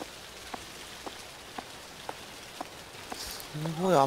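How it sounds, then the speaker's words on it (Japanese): Heavy rain falls in a video game as a steady, soft wash, with faint regular ticks about every half second and a brief voice rising at the end. "すごい雨だな、なんかこれ。"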